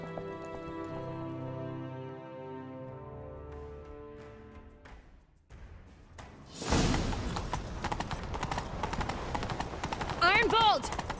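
Horses galloping hard in a chase in the video game The Witcher 3, a fast rhythmic clatter of hooves rising after a calm musical passage, with a horse's whinny near the end and voices talking.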